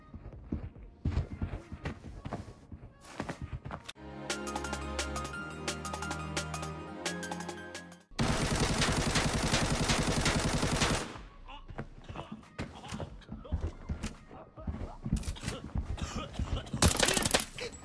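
Gunfire in the shooter Arena Breakout, with sharp repeated shots and sustained automatic bursts, some loud and near, others more distant, mixed with footsteps and occasional voices.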